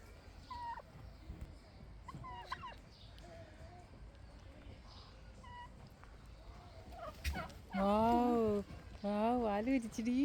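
A few scattered chirpy bird calls on a farm, then a turkey bursts into a loud, warbling gobble twice near the end, close to the listener.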